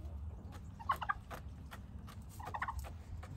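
Royal Palm turkey gobbling close by, two short bursts of gobbling separated by a pause, over a low background rumble.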